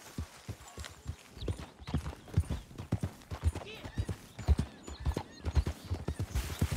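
Horse hooves clip-clopping in the Red Dead Redemption 2 video game, a steady close rhythmic trot of distinct hoof strikes at moderate loudness, with no voices.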